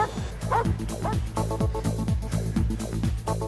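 A police dog handler's dog barks and yelps repeatedly in quick, excited bursts while arresting a suspect in scrubland, close and loud with a steady rhythm.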